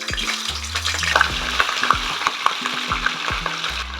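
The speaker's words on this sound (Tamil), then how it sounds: "நம்ம இந்த எண்ணெய் காஞ்சிடுச்சு. இப்போது இந்த சிக்கன் அதில் போட்டுடலாம்." Chicken pieces, washed with curd and salt, frying in hot oil for a one-pot chicken gravy: a steady close sizzle with repeated knocks and scrapes of a spoon stirring against the pot, no talking.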